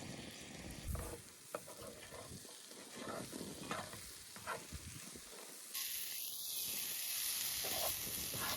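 Onions fry in a pan on a camp stove outdoors, giving a soft, uneven sizzle with scraping stirs. The texture shifts to a steadier hiss near the end.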